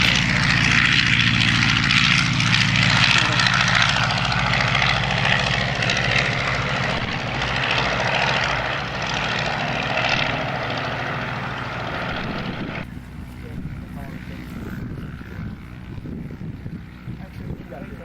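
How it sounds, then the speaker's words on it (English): Propeller airplanes running at a busy airfield, a loud steady engine drone with prop buzz that holds for most of the stretch, then drops away abruptly to quieter background with faint talk nearby. "A lot of airplanes."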